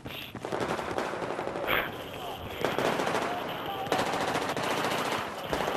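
Rapid automatic gunfire from the video game Battlefield 4 on PS3, sustained and dense throughout, with near and distant bursts layered over excited voices talking.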